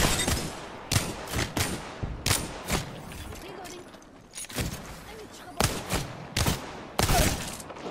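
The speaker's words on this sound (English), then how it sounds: "who the fuck said you could shoot at me, Pathfinder?" Rapid bursts of gunfire from the Apex Legends shooter game crack out in dense clusters, loud and close, with several sharp volleys spread through the stretch while a player talks over the action.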